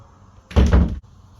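A smart trash can lid shuts on a voice command, making one short, solid thud in a quiet room.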